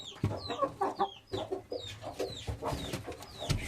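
Malatya Arab chickens, a rooster, hen and chicks, cluck repeatedly in short, uneven bursts nearby, with higher squawks and chirps mixed in among the flock.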